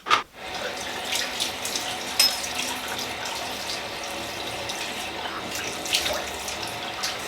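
Tap water runs steadily into a bathroom sink while someone wets their face, a constant close splashing flow with a few brief louder splashes.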